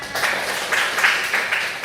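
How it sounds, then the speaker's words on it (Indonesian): Classmates in a school classroom clapping together in a short, rhythmic burst of quick claps, fairly close and lively. "Beri tepuk tangan teman-teman."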